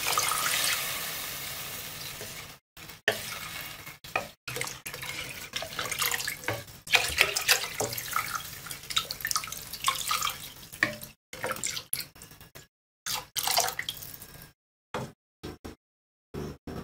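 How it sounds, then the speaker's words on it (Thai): Clean drinking water pours steadily into a pot of lime-pickled chicken for stewing, a close, continuous splashing stream broken by a few brief pauses, with no voices. "จากนั้นเราก็ใส่ น้ำดื่มน้ำสะอาดลงไปเลยค่ะ"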